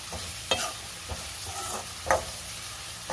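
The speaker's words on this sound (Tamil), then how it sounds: "நல்லா இப்படி விடாமல் கை விடாமல் வதக்கிக்கிட்டே இருங்க" Onions or masala being sautéed for paneer butter masala sizzle steadily in a pan, broken by several sharp scrapes and clacks of a stirring spoon against the metal, close and without talk.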